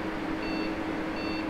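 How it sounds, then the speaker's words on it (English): A steady electronic tone holds under a constant machine hum, with two faint high beeps appearing briefly, a computer motherboard's warning beep code as its fan spins faster. "Just got a beep code out of it."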